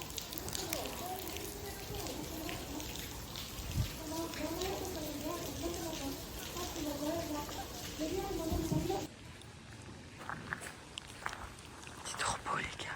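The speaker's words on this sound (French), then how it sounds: "La pluie, avec la pluie là, ça donne vraiment quelque chose en plus." Steady rain patters on surfaces in Kyoto, a continuous hiss and drip under music and voices talking, easing to a quieter, sparser patter after a sudden cut.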